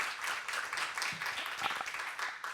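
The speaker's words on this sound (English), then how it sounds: "So could everyone give a round of applause to the panelists?" Audience applause at an education conference session for a panel of speakers, a continuous moderate clapping patter that swells slightly, with faint voices mixed in.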